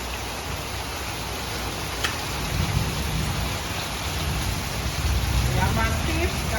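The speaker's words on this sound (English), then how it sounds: "It's rainy time." Steady outdoor rain pours down in a continuous dense hiss, with a low rumble rising beneath it, loud and close throughout.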